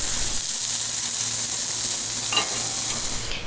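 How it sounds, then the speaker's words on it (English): Stuffed cheeseburgers sizzling on an outdoor cooker, a loud steady hissing sizzle close up with a brief clink near the end, no voices. "I'm cooking my cheeseburger outside."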